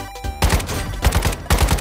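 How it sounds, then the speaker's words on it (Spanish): Bursts of rapid gunfire in the video game Warzone Mobile crackle in quick repeated volleys, loud and close, with brief gaps between the rattling shots. "Ahí hay tiros."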